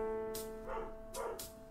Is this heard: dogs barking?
yes